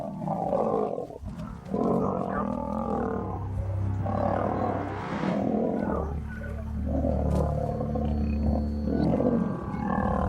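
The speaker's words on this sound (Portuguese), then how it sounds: "Eles rugiam e faziam barulhos assustadores." Wild lions fighting, roaring and snarling without a break, loud and close: deep rumbling roars and harsh growls overlap in repeated surges for about ten seconds, with no talking.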